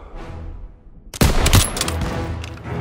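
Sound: gunfire in the video game Call of Duty: WWII

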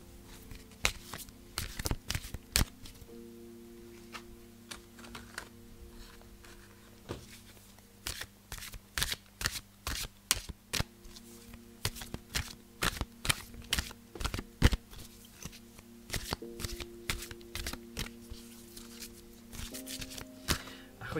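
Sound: shuffling a deck of cards

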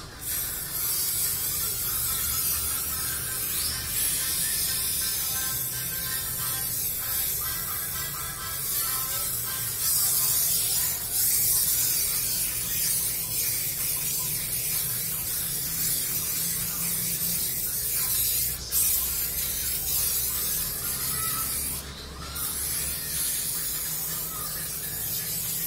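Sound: cooking spray sprayed onto tray

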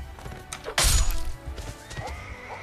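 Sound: horse neighing and charging in a Lord of the Rings video game

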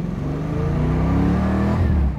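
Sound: 1968 Ford Mustang accelerating at half throttle

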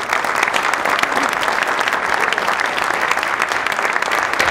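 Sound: audience applause after panel

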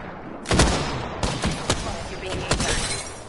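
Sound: gunfire in Apex Legends video game

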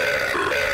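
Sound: auto-tuned burp set to Custer's Revenge game noise

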